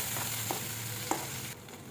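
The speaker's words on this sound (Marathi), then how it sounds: "वाटण टाकून चांगलं आपल्याला तेलामध्ये परतून घ्यायचं." Ground masala paste frying in hot oil for egg curry, a low continuous sizzle with two brief spatula taps, close and fairly quiet, the hiss dropping off near the end.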